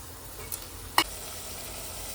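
Onion sizzles steadily in a pan for a crab curry, a soft constant frying hiss broken by a couple of brief clinks of stirring.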